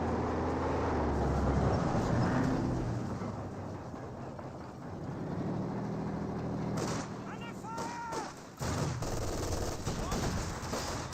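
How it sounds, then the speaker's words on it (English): Infantry rifle fire from Guards and penal squads in Company of Heroes 2, dense crackling volleys with booming battle noise and engine rumble throughout, loud and continuous, with some whistling tones later. "Guards and penals firing away."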